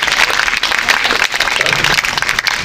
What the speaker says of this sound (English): Yes, we clap it up for that.